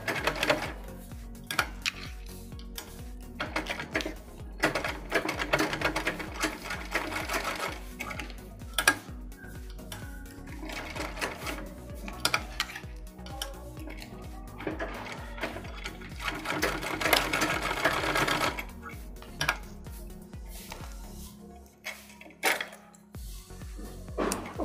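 A sewing machine stitches a homemade fabric keychain, running in loud, rapid, rattling bursts with short pauses between runs, close up and without talk.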